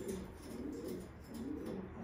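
A breeding pigeon coos in soft, low, rolling phrases that repeat in a steady rhythm, faint and close in a quiet loft with no talk.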